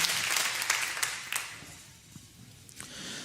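Congregation applauding in a church service, a broad wash of clapping that is loud at first, then thins and fades toward the end, with no one speaking.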